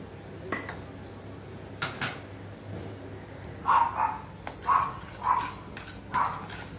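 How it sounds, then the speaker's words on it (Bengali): A utensil mixes pancake batter with sugar in a bowl. Soft scraping gives way to several distinct clinks of metal against the bowl in the later seconds, over a quiet room background. "এবার পুরো চিনিটা দিয়ে ভালো করে মিক্স করব।"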